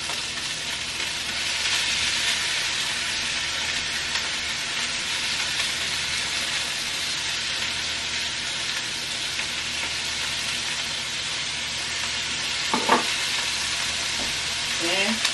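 Cheese-filled burger fingers sizzle and fry steadily in hot fat while being basted, a continuous loud crackle with brief clinks near the end.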